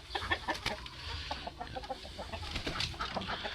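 Chickens on a farm cluck in a busy, overlapping chorus, with short repeated calls close by and others farther off, continuous throughout.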